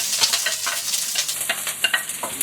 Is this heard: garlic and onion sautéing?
yes